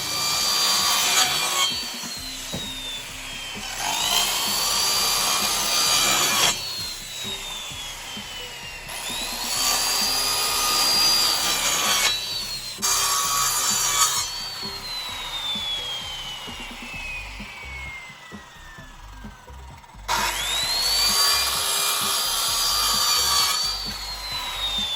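Repeated strokes of a handsaw cutting strips of wood for chicken coop steps, close and steady, with several sawing bursts separated by short pauses.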